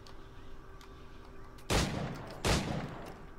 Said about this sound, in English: Press on Y to shoot the highlighted target with your pistol.